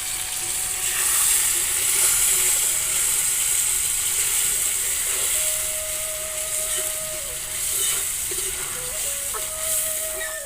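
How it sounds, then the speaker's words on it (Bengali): Curry sauce bubbles and sizzles steadily in a pot on a clay stove, a constant hissing, crackling simmer with faint clinks and scrapes now and then, close and with no voices over it. "এটা আমার ঝোলটা ফুটছে।"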